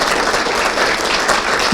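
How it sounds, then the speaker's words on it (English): Brief, steady audience applause at a GIST Cancer UK patient meeting in Bath, even and fairly loud throughout the short burst. "I would like her to have a round of applause"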